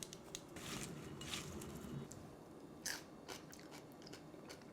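Close, crisp crunching from biting and chewing a crispy fish taco, with several sharp crackles spread irregularly across a quiet background.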